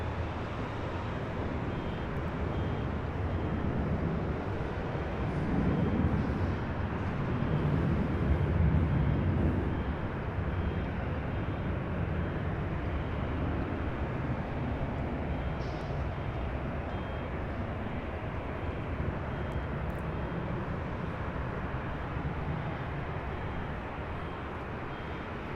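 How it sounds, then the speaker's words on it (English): An Alaska Airlines Boeing 737-800 taking off from LAX, a long, broad jet roar heard from a distance that swells gradually, peaks and then holds steady. "This is Alaska 1219 taking off to Seattle on a 737-800."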